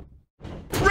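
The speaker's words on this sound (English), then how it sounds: "Oh, what a tackle!" A brief, heavy thud of a body slamming down during a tackle in WWE 2K21 wrestling: a soft low rumble, a short gap, then a loud crashing impact at the end.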